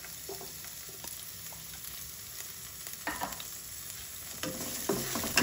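Garlic sizzles quietly in a pot for an Ilonggo KBL pork dish, with soft frying crackle and occasional spoon stirring scrapes that grow louder near the end.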